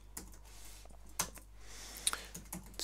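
Typing on a computer keyboard, with quiet, irregular key clicks and a few sharper taps over a faint steady hum.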